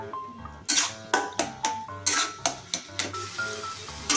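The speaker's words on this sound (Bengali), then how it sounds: "এবার একটু নাড়াচাড়া দেবো, সুন্দর করে নাড়াচাড়া দিয়ে" A utensil scrapes and knocks rhythmically against a pan while eggplant bharta with turmeric fries, about eight sharp clacks over a continuous sizzle, close and fairly loud.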